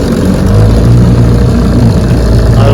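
A 1968 Evinrude 9.5 HP outboard boat motor runs steadily on a lake test, a loud, continuous low engine drone with no voices over it.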